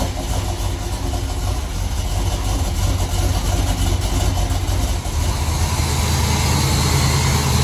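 A carbureted car engine with 12 degrees of initial timing idles steadily on fast idle and choke while warming up, a loud, close, even rumble throughout with no talking.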